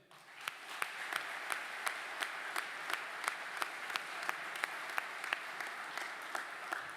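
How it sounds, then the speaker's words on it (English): Faint, distant applause from a small group, with one sharp clap standing out in a steady rhythm above the soft patter. "So a round of applause for him."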